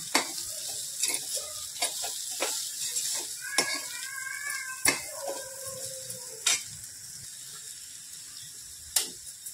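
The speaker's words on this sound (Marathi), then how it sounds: "जो आपण मसाला टाकलेला आहे याला छान परतवून असं म्हणजे कोट करून घ्यायचे आहे" Gawar beans coated in masala stirred and sautéed in a pan: a spatula scrapes and clinks against the metal in repeated strokes under a soft continuous sizzle, close and moderately loud, with no talking.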